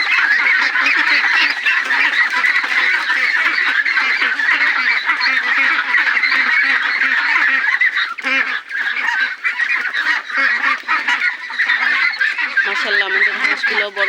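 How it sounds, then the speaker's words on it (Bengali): A crowd of large farm ducks, grown past three kilograms, honks and quacks loudly and continuously at close range, many overlapping calls with no pause. "মাশাআল্লাহ, আমাদের হাঁসগুলো বড় বড় হয়ে গেছে"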